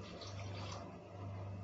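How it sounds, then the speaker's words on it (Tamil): Water pours steadily into a pot of mutton biryani in a home kitchen, a close, continuous splashing fill lasting the whole moment with no one talking. "1/2 கிளாஸ் நார்மல் தண்ணி ஊற்றிக்கலாம்."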